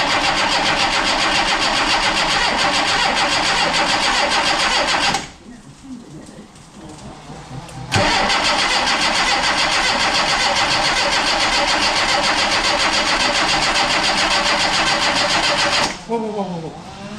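A red Sana GL car engine cranking over for the first time in about 20 years: loud, sustained starter churning, a brief pause with someone speaking, then another long cranking burst.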